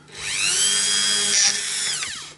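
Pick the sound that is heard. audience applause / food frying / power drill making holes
power drill making holes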